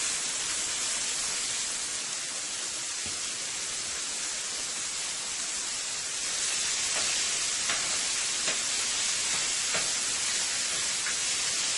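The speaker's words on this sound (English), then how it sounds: "Look how beautifully that fish is frying." Steady crackling sizzle of fish frying in hot oil, a dense hiss with occasional sharper pops, continuous and close.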